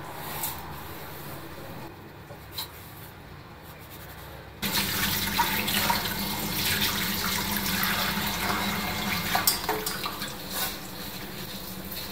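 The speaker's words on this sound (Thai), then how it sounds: "เดี๋ยวเราจะมาล้างปลากันนะคะ" Tap water runs steadily over fish being washed in a kitchen sink, quieter for the first few seconds and then a louder, fuller splashing from about the midpoint on, with small handling clunks and no talk.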